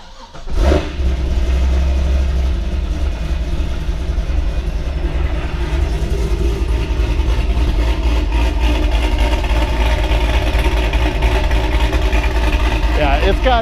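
A modified Pontiac GTO with a performance cam cranks over and catches, then settles into a loud, steady, lumpy idle close by that carries on without a break to the end.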